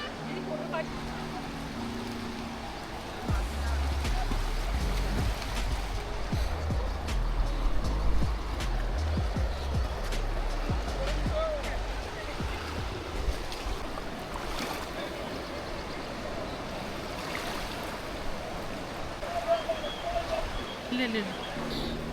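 The cold Ganges rushes past in Rishikesh where river rafting is under way, a steady broad churn of flowing water close by, with someone talking over it throughout.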